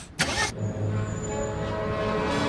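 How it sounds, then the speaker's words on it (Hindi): A car engine cranks and catches with a short loud burst, then settles into a steady idle rumble, close by with no talking. "छगन, छगन, चल बेटा गाड़ी चला।"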